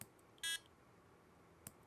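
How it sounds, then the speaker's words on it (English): One short, bright electronic beep from a single button click on a CircuitPython circuit board, followed moments later by a faint click in an otherwise quiet space. "when I press this button, it will beep"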